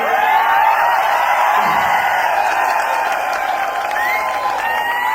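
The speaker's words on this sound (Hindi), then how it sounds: "ये सबसे अच्छा काम आप ये कर रहे हो कि बीच बीच में तालियां भी बजा रहे हो" A stand-up comedy audience applauds steadily throughout, a dense, loud wash of clapping with a crowd murmur mixed in.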